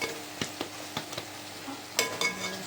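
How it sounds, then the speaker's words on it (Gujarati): Masala spice paste for stuffed brinjal cooking slowly in a pan, giving a soft continuous sizzle broken by scattered stirring scrapes and taps of a spoon, close and fairly quiet with no talking. "આ મસાલો આપણે ધીમે ધીમે હા પાકવા દેવાનો છે ઉતાવળ જરાય પણ કરવાની નથી આમાં"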